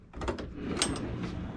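A short indoor rumble and rolling scrape as a pocket door slides along its track inside a 1996 Lakeview houseboat, fairly close, with no talking.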